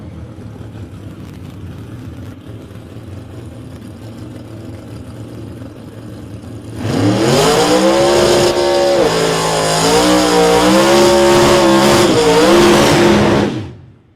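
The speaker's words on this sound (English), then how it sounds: "Beautiful burnout on that car, the Adrian Vella car, little Chevrolet Coba" A small Chevrolet Cobalt drag racing car at a test-and-tune meet does a long burnout, with a loud engine roar and sustained wheelspin that starts suddenly after a quieter stretch of background engine noise and cuts off at the end.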